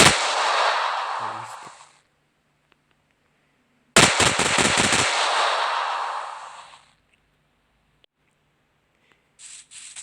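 Gunfire from a weapons mod in the video game Minecraft: two long, loud bursts of rapid, harsh automatic fire, each about three seconds, separated by silence, with a short faint burst at the end and no talking.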